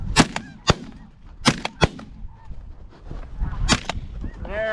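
Shotguns fire at snow geese in high wind: several sharp, close blasts in quick groups, with geese honking in the background between the shots.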